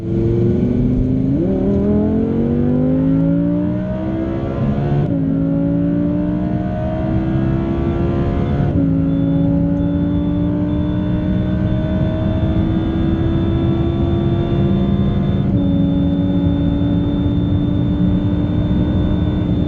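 An Audi R8 V10 and an Aston Martin V8 Vantage race down a runway, engines roaring and climbing through repeated gear changes, each upshift dropping the pitch before it rises again, loud and sustained throughout.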